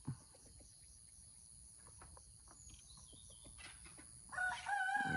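A rooster crows loudly near the end, after a stretch of steady insect chirring and soft background clucking from chickens at a Thai farmhouse garden.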